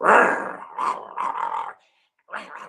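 A voice imitates an aggressive dog's growl in several rough, snarling bursts, with a brief pause before a final growl, loud and close.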